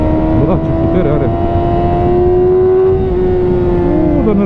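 A 2006 Yamaha R6 motorcycle engine held at a high, steady rev with a strong tonal whine, rising slightly mid-way and then easing, loud and close.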